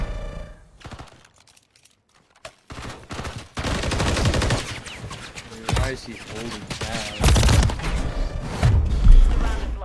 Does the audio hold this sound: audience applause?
no